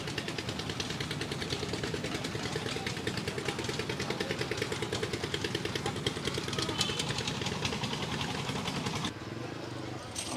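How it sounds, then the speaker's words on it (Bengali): A large trawler's engine idles near Joynul Abedin Park in Mymensingh, giving a steady, fast, chugging drone that stays close and even for about nine seconds before briefly dropping away. "আমরা একটা বড় ট্রলারে উঠবো।"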